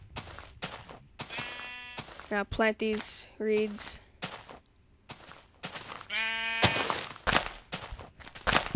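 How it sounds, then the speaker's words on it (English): Sheep in the Minecraft video game let out several close, wavering bleats between clicks and footsteps, and someone talks briefly over them. "Stupid sheep, shut up. You're annoying."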